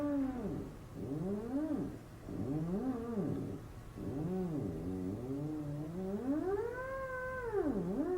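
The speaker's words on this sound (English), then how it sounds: "what you are looking at is called a theremin, and I'm about to show you how it works" Theremin being played at the Bakken Museum, its eerie gliding tone swooping up and down in smooth wavering arcs, rising high near the end, close and steady with no talking.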